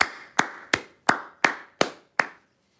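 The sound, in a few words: hands clapping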